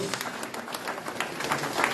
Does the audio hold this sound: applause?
yes